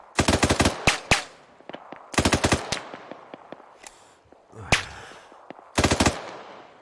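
Automatic gunfire from an Arma 3 firefight, loud close bursts of rapid shots in several volleys separated by scattered single cracks and echoing reports.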